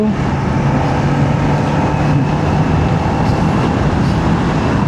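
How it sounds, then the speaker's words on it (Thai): Kawasaki Ninja 500 SE 500cc motorcycle engine while riding, a loud, continuous droning hum mixed with rushing wind noise, steady throughout. "เสียงรถก็มันใช้ได้อยู่"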